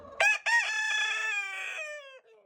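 A chicken at an octagonal backyard coop gives one loud, close crow that rises, holds, then trails off over about two seconds, with nothing else around it.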